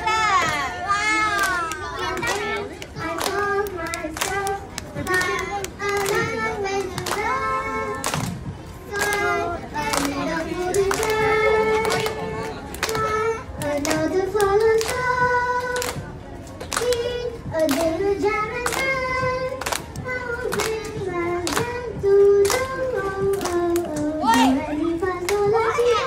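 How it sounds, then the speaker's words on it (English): Children clap along in a steady, repeated rhythm through the whole stretch, the sharp hand claps falling under young voices singing a melody, with occasional chatter around them. "Everybody clap."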